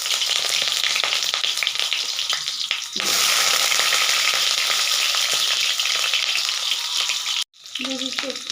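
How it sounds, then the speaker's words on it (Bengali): Potatoes frying in hot oil for a chicken curry, a loud steady sizzle and crackle that runs throughout, briefly dropping out near the end before resuming with some clinks. "প্রথমে আমি আলুগুলো ভেজে নেব।"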